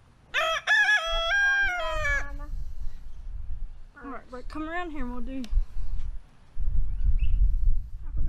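Rooster crowing and birds calling outdoors, a long harmonic crow near the start and another mid-clip, with people talking close by between and over them.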